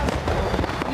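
Fireworks explode in close, rapid bursts at a fireworks disaster site, loud crackling bangs packed into a single dense moment.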